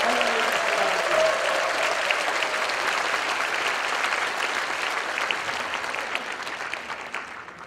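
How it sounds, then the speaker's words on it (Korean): A church congregation claps warmly for its pastor, steady and full applause from a large group that gradually tapers off, with faint speech at the very start. "아주 큰 박수로 환영해 주시기 바랍니다."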